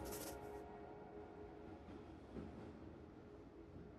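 A train in a video game rumbles along with a steady low hum and faint rolling clatter, quiet and continuous throughout.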